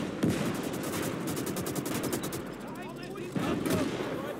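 Rapid gunfire in the WWII strategy game Call to Arms: Gates of Hell, Eastern Front German campaign, rattles as dense volleys with a bursty, machine-gun rhythm, joined by louder reports near the start and again around the middle.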